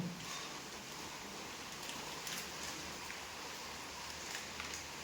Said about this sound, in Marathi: कसलं पाऊस लागलं